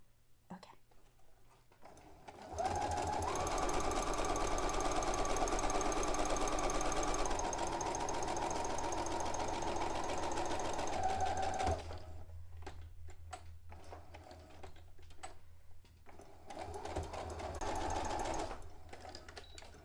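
A sewing machine stitches fabric for a garment in a steady, close whirring run of about nine seconds, then stops, leaving only quiet handling sounds before a second, shorter burst of stitching.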